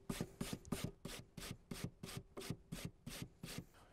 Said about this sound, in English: Pull out our potato and we're gonna grate right into our towel